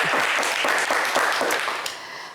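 A studio audience claps loudly for a contestant on a French television game show, a dense burst of applause with sharp individual claps, fading slightly at the end.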